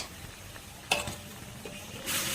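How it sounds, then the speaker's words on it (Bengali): Pieces of fried parshe fish go into a boiling eggplant curry: a brief clatter in the pot, quiet bubbling, then a louder hiss and sizzle near the end. "এবার দিয়ে দিব ভেজে রাখা মাছ"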